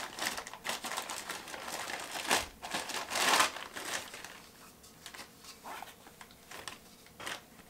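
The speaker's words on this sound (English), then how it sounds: "Let's take all the packaging off here." Plastic and paper packaging crinkling and tearing as it is pulled off a new Tamron 70-200mm f2.8 G2 lens for Canon, close and fairly quiet, in bursts of rustling that thin out toward the end.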